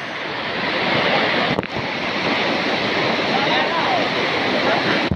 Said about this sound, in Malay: ini arusnya guys